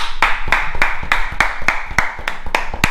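Sharp, steady claps repeat at an even rhythm, sounding like a small group applauding close by.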